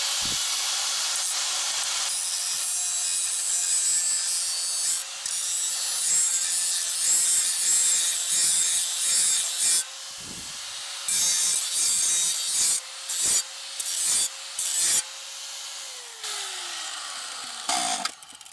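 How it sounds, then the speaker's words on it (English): Sanding the rusted lower sliding-door track of a minivan, a loud, close abrasive hiss running in long strokes, then broken into shorter rhythmic passes with brief pauses toward the end. "Let's try to sand it, make it a little flatter."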